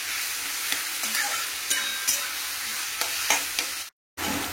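Potatoes fry in a pan with ginger, cumin, tomato and whole garam masala, giving a low continuous sizzle broken by regular scraping spatula strokes, close and fairly quiet.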